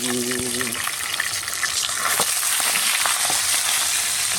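Dagupan milkfish (bangus) frying in a pan, a loud, constant close sizzle with crackling, and a brief voice at the start.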